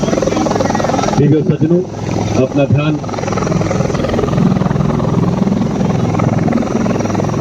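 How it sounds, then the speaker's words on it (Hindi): An army WSI helicopter circling over a parade ground, its steady rotor and engine drone loud and continuous while a public-address announcer speaks over it briefly. "आप देख सकते हैं एक और WSI हेलीकॉप्टर मैदान पर निगरानी करते हुए"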